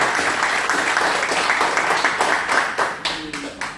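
Hearty applause from attendees at an institutional training session after a guest doctor's presentation, dense clapping holding steady before thinning out near the end as a voice briefly comes in.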